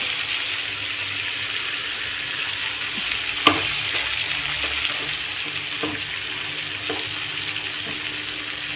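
Tempering for chundal sizzles and crackles steadily in a pan as grated coconut goes in, with a few sharp clinks of a spoon stirring against the vessel, and no voices.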